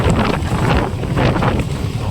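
Steady wind blowing and buffeting a nearby microphone, a continuous broadband rush with gusty swells throughout.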